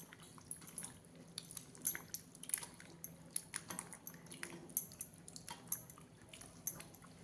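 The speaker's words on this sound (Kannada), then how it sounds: "ಇದಕ್ಕೆ ಮತ್ತೆ ಸ್ವಲ್ಪ ನೀರು ಹಾಕಿ ಚೆನ್ನಾಗಿ ಹುಳಿಯೆಲ್ಲ ಕಿವುಚ್ಕೋಬೇಕು." Tamarind is squeezed by hand in water, giving faint, close wet squishes and drips in an irregular rhythm of soft pulses, quiet and without talk.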